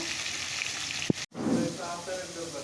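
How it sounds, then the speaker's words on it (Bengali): Fish fries in a pan with a steady, close hiss of bubbling oil, a sharp clack and a brief hush midway, then the sizzle resumes at full strength. "চলো মাছগুলো আস্তে আস্তে ভেজে নেই"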